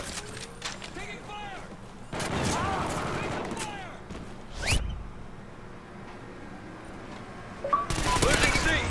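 Gunfire in a multiplayer shooter video game, with bursts of shots and sharp impacts through the middle, a loud crack near five seconds and another burst at the end, mixed with game effects and a voice talking.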